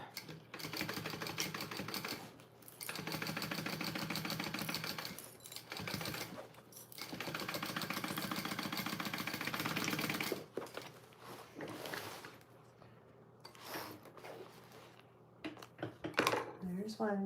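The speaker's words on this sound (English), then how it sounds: "we're gonna sew these boxed corners up" A sewing machine stitches boxed corners on a garment in bursts of fast, rattling needle clatter, quiet and close, with brief pauses and handling noises between runs.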